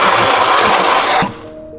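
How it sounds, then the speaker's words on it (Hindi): A kitchen blender whirs loudly and continuously while blending tomatoes and chilli, then cuts off abruptly, leaving quiet room tone. "अब इसको ब्लेंड करते हैं। ब्लेंडर की आवाज़ आएगी ज़ोर करके।"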